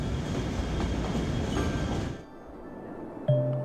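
Trains running in the Cities Skylines video game produce a loud, steady rolling rumble that cuts off abruptly, followed by near silence and a brief clink.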